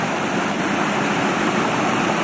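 A large waterfall on a river roars in a loud, dense, unbroken rush of falling water, heard up close and filling the whole clip.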